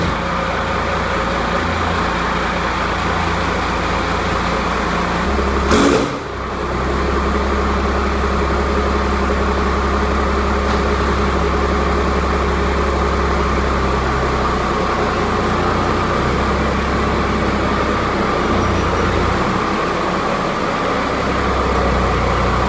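Engine idling steadily with a deep low rumble as a vehicle slowly backs up, continuous and close, with a brief clunk partway through and no talking.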